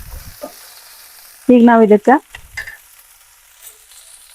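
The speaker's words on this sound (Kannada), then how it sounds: "ಈ ತರ ಚೆನ್ನಾಗಿ ಫ್ರೈ ಮಾಡ್ಕೋಬೇಕು ನೋಡ್ರಿ" Okra sizzles and fries steadily in a pan, a continuous crackling hiss with a short burst of nearby speech partway through.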